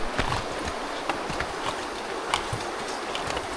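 A horse crossing a river with a log load clip-clops steadily through shallow water, its hooves thudding softly amid continuous stream rush and splashing.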